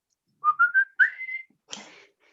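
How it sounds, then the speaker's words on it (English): A person whistles a short tune nearby, a few quick rising notes then a longer held pitch, followed by a breathy rush of air. "He taught me how to whistle, he did."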